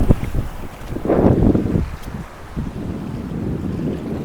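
Seashore wind roars against the microphone on a fishing outing at the sea, a loud, close, continuous buffeting that swells in a strong gust midway, with the sea beneath and no talk.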